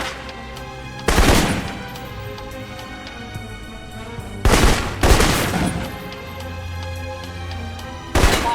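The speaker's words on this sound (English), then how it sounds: "For long-range encounters, the assault rifle's the key." Assault rifle fire in the video game Alpha Protocol, with four loud, close bursts of rapid shots separated by quieter stretches of game ambience, each burst sharp and crackling with a short tail.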